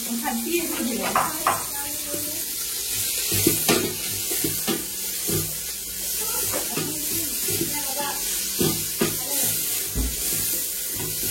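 Mint and coriander sautéing in a pan for prawn biryani, a soft continuous sizzle with occasional stirring knocks, heard beneath a person talking for most of the stretch.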